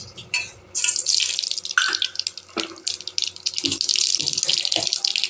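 Mustard seeds sizzle and crackle in hot oil in a kadai, a dense bright hiss with scattered pops, close and fairly loud throughout.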